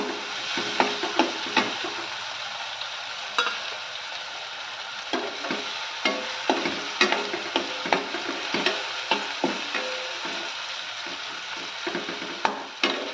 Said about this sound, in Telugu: టమాటోని కూడా మనం చక్కగా ఆయిల్లో కాస్త మెత్తబడేదాకా వేయించుకోవాలి